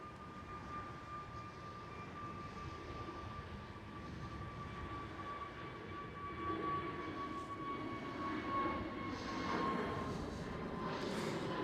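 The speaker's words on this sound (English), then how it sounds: "The KLM Airbus A321neo." At Amsterdam Schiphol, a KLM Airbus A321neo jet airliner produces a continuous broadband engine rumble with a thin whine. It grows gradually louder toward the close as the aircraft nears.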